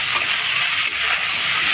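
Cumin, coriander powder, salt and potato fry in a pan for a rohu fish curry with drumstick, giving a continuous even sizzling hiss with no talk over it.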